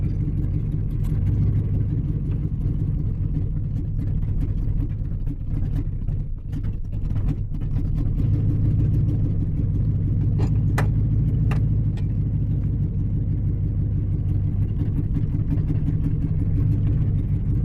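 A truck engine runs steadily with a low, continuous rumble while the truck backs up, running poorly and sounding rough, with a few faint clinks over the drone and no talk.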